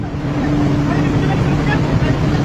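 Loud, steady boat engine droning at full throttle during a tuna catch at sea, a continuous low hum with excited voices shouting over it.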